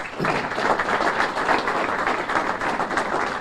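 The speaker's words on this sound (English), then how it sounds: "let's give them a round of applause." At a mayor's State of the City address in Waterville, a hall audience gives a steady wash of close, even applause that carries on for the whole moment without a break.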